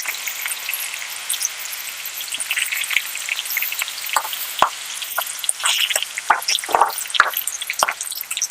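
Small fish pakodi and green chillies crackle and spit in hot oil, a dense steady sizzle broken by sharp, irregular pops and bursts up close, with no voices.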